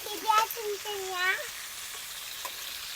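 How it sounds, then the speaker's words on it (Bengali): Sea crabs fry in a pan in a village kitchen, giving a steady close sizzle through the whole stretch, while a voice briefly speaks over it near the start. "আমার কাঁকড়াগুলো ভাজা হয়ে গেছে।"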